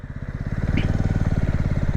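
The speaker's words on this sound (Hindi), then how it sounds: "और जो मैं अब एक्सेलरेट कर रहा हूँ, देखो कितना ग्रेजुअली कर रहा हूँ" A motorcycle engine pulls steadily under gradual acceleration, its rapid, even exhaust pulses close and loud and rising slightly in pitch over two seconds.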